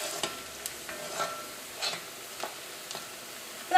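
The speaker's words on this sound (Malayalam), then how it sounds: "ഈ സവോളയ്ക്ക് വെളിച്ചെണ്ണയിൽ ഇട്ടിട്ട് നമുക്ക് നന്നായിട്ടൊന്ന് മൊരിയിച്ചെടുക്കാം." Onions fry in coconut oil in a pan, a soft sizzle broken by repeated scraping stirs at an irregular rhythm, quiet and close.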